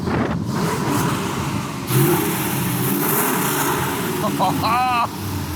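Chevrolet Camaro SS V8 revving in a shop, a broad continuous engine roar that surges loudly near two seconds and holds steady, with brief whistling squeals toward the end.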